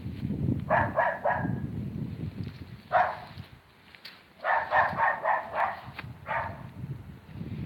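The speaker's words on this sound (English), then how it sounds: "There's a dog barking at me." A dog barks in short clustered bursts of two to four, moderately distant, across an old graveyard, with gaps of quiet and low wind rumble between volleys.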